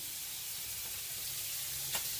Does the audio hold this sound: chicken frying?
yes